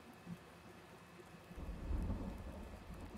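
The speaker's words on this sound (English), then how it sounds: "Ooh, what thunder." Thunder rumbles through steady rain in the Farming Simulator 19 video game, a quiet wash of rainfall swelling into a loud, low roll of thunder about halfway through that lingers to the end.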